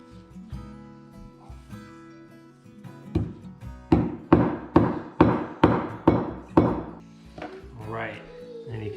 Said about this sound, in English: the easiest way is to hammer it down the middle so it splits the feather